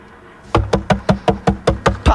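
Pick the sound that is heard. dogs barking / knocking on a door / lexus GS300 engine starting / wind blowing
knocking on a door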